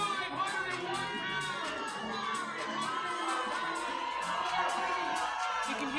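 A crowd cheers and shouts loudly and steadily at a powerlifting meet as a lifter attempts a heavy 227.5 kg (501 lb) deadlift with five spotters on the platform; excited yells and whoops rise throughout.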